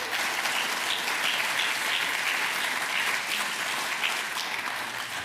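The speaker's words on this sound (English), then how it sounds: "let's hear another round of applause for Human Rights Foundation." An audience at a Bitcoin policy summit claps in a steady, dense round of applause, loud and sustained throughout with no talking over it.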